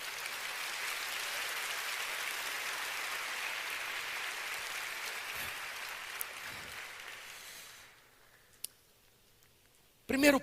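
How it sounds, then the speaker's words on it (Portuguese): Church congregation applauding in a broad, sustained wash of clapping that fades out after about eight seconds, followed by near quiet with a single sharp click. "Se é para Jesus, você pode aplaudir."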